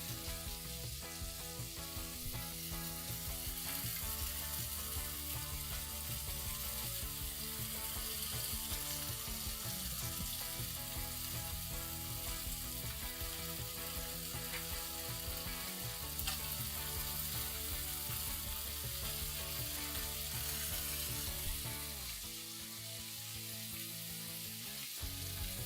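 Food searing in a hot pan gives a steady, dense sizzle that runs unbroken and fairly close for about twenty seconds, then eases slightly near the end, with no talk.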